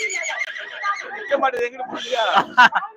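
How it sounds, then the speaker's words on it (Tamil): A horse whinnies loudly at a temple fair livestock market, a shrill, wavering neigh followed by snorts and short huffs, close by, amid people talking. "இது என்ன ரகம்ண்ணே நாட்டு குதிரையா கிராஸ்"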